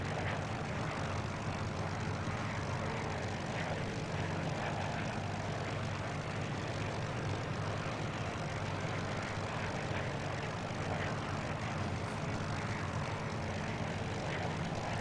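In Flight Simulator X, a Battle of Britain Memorial Flight propeller aircraft drones through a stunt flight, its engine a steady, even hum that holds for the whole stretch with no talking.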